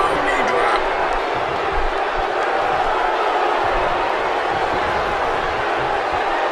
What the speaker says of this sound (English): this crowd in Santa Clara does not approve of the Moorish Nightmare